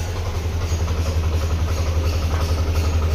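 A Yamaha Nmax v2 scooter engine idles low and rough after throttle body cleaning, with a check-engine warning and worn crankshaft bearings, a loud, close, steady pulsing putter without speech.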